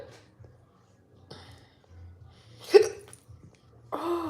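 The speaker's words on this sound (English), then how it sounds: "oh the hiccups" A person hiccups a few times, short sharp catches spread out over several seconds, close and fairly quiet, with some breathy noise and a brief voice near the end.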